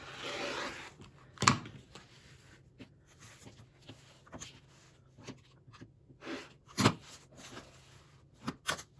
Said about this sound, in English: All I'm going to do is trim 1/4 inch around all the sides